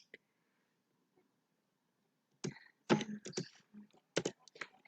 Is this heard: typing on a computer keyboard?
yes